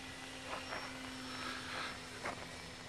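A Skytrainer 400 model airplane engine at full throttle holds a steady high buzzing drone at a distance, faint and constant with slight wavering, with no voices over it.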